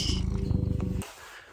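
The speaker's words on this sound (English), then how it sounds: "Here's my little cat." A pet cat purrs close to the microphone, a steady rhythmic low rumble of rapid pulses lasting about a second before stopping abruptly, leaving quiet room tone.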